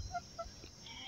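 Village hens cluck softly nearby for a brief moment, a few faint, short calls over low background noise, with no talk.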